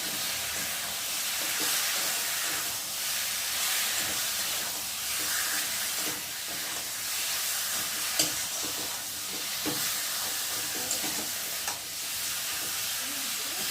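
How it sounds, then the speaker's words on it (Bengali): Chicken coated in spices sizzling steadily in a pan as it is stirred, with scraping stir strokes and faint hissing running under a continuous frying bed, no talking. "চিকেনটাকে ভালো করে মশলার সাথে নেড়ে দেবো"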